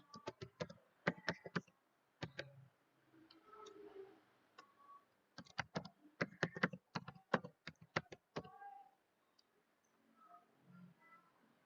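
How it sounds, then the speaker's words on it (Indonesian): Password typed on a computer keyboard, a close, quiet run of crisp key clicks in two quick bursts separated by short pauses, with faint clicks trailing at the end. "Kita ketikkan passwordnya."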